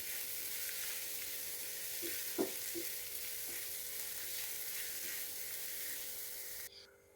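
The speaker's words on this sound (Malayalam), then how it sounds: "ഒരു പൊടിക്ക മഞ്ഞൾപ്പൊടി ഇട്ട് കൊടുക്കുക. ഈ ചൂടിൽ ഇതൊന്ന് മൂപ്പിച്ചെടുക്കുക." Turmeric powder roasting in hot oil in a pan gives a steady, soft sizzle that lasts throughout, with a few faint stirring taps partway through and a quick drop near the end.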